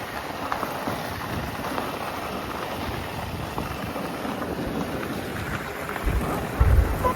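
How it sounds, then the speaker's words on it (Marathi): Steady rain falling in Mahabaleshwar, a dense continuous patter with a low rumble near the end and no voices. "पावसाचं वातावरण झालेलं आहे आमच्या इकडे"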